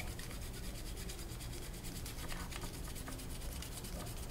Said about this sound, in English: resin is quite easy to scrape back